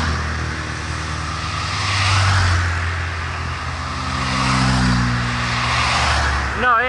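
Old Porsche sports cars drive past at a classic car gathering, a steady engine drone that swells twice as they go by, with voices nearby.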